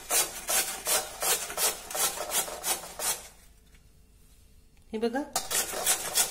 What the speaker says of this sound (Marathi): सर्वप्रथम किसणीवर बटाटा किसून घेऊया.